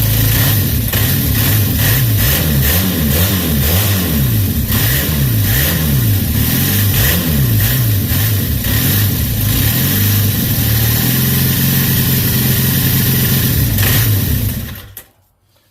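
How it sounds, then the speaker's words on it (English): A 1976 Kawasaki KZ400 twin-cylinder motorcycle engine runs loud and close during carburetor tuning, revving up and down in repeated rising and falling swells before settling to a steady idle, then cutting off at the end. "let's see if it fires up here. It runs on both cylinders."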